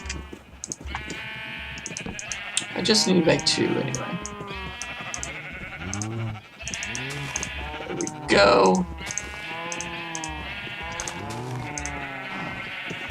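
Several Minecraft sheep bleat loudly and repeatedly over light background music while a person talks intermittently.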